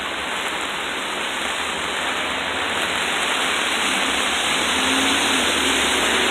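Heavy rain pours down in a dense, steady roar, driven by wind, loud and close throughout with no pauses.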